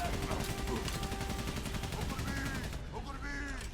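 Rapid bursts of automatic gunfire crackle in a fast, continuous rhythm, loud and close, in the Battle of Verdun in Valiant Hearts: The Great War, while voices talk over the shooting.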